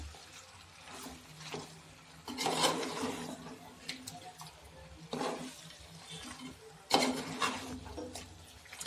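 Pepper chicken with coriander being stirred in a pan, giving soft scraping and rubbing strokes at an irregular pace, moderately quiet with a few louder sweeps.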